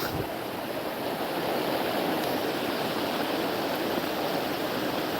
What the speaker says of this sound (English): It's the Salmon River. It's in Pulaski, New York.